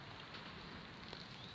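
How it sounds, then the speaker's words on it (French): Hail falls steadily outdoors, a dense, even patter of small stones hitting surfaces around, with one slightly sharper impact partway through and no voices. "Il y a des grêlons, regardez."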